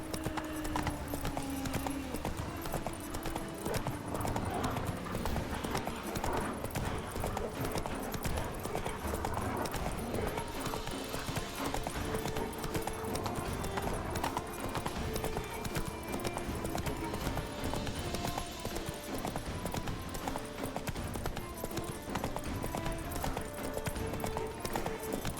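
Galloping horse hooves in the open-world game The Witcher 3: Wild Hunt, a fast steady clip-clop rhythm continuing for the whole stretch over game ambience and music, with occasional faint snorts.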